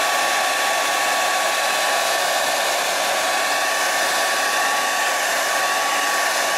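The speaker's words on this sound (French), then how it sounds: "je passe le sèche-cheveux" A hair dryer on its hot setting blows continuously at close range onto a scarf, a steady, loud whooshing hum with a constant whine and no pauses.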